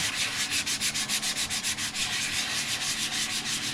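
Rhythmic back-and-forth sanding strokes on a 3D printed Scout Trooper cosplay helmet, close and steady, a dry scratchy rasp repeating about four times a second with no talk.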